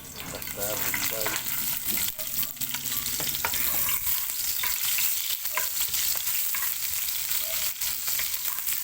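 Garlic and onion sizzling and frying in cooking oil in a pan, a steady crackle with scraping stirring strokes and occasional clinks, close and busy throughout.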